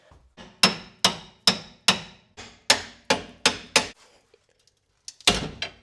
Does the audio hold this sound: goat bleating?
no